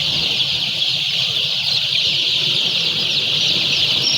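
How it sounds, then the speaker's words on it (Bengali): Chickens on a large poultry farm of about 14,000 birds, a few of them panting and seeming unwell, cluck in a dense, continuous flock chorus over a steady background hum with no talking. "মুরগি তো হাঁপাচ্ছে, বুঝছো?"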